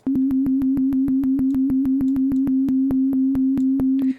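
A steady, fast stream of buzzy synth pulses repeats evenly for several seconds, each short note carrying a faint rising pitch sweep.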